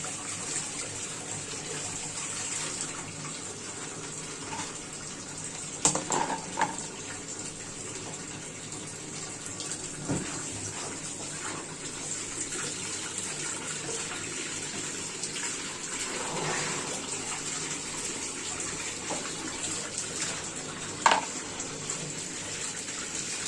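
Crabs rinsed in clean water: continuous running, gushing water with a few brief splashes and knocks scattered through, close by and with no voices.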